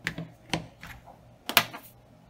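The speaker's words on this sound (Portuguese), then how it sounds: "Vou cortar essa pontinha de cola." Scissors snip through a hardened tip of dried glue on a craft piece, several short sharp clicks spaced apart, close and fairly quiet with no talk.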